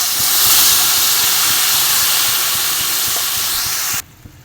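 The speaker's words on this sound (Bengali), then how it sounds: "দেখো জল দিয়ে দিয়েছি।" Water poured into a hot pan of potatoes with salt, turmeric and green chilli hisses loudly and steadily up close for about four seconds, then cuts off abruptly to a quiet background.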